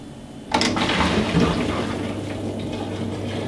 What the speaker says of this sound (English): we're going to spin the appliance now, make sure the spin's working and the drain